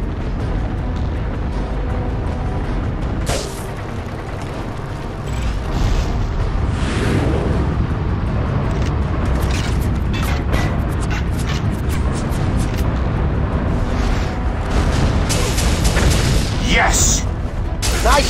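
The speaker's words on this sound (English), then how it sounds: "Another missile ignition detected" Missile ignitions and explosions in the Iron Man PC game: a loud, continuous roaring rumble broken by heavy booms and metallic mechanical clatter, with a voice faintly audible under the din.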